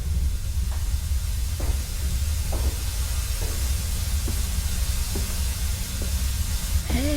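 Steam hisses steadily in the Amnesia: A Machine For Pigs video game, a continuous broad wash of noise dotted with faint clanks every second or so over a low industrial drone.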